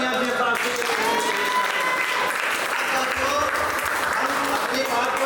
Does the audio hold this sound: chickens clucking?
no